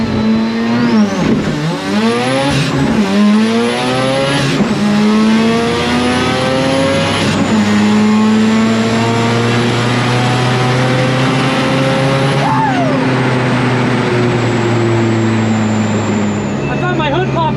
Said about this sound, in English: Oh, look at that warm-up shift.